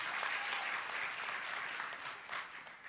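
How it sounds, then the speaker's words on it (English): A crowd claps steadily and fairly loudly for a few seconds at a Girls in ICT Day award event in Rwanda, a dense wash of applause that slightly tapers toward the end. "Another round of applause."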